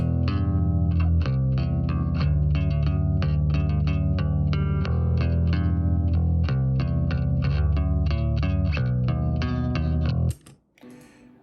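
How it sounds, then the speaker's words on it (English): A clean bass guitar plugin plays repeating notes in an even rhythm, full and continuous, then cuts off abruptly near the end. "It's just a really nice clean bass sound."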